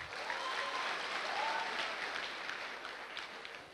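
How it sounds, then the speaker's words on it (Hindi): An indoor audience at a motivational speech in Darbhanga breaks into applause, a dense burst of clapping that holds steady before tapering off. "एक जोरदार ताली दरभंगा वाले के लिए।"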